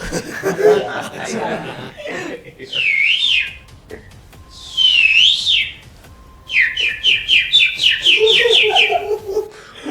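Asian koel calls played through a loudspeaker at a live devotional kirtan show, with rising whistled phrases repeating several times and then a quick run of notes, loud and clear between stretches of crowd chatter and laughter.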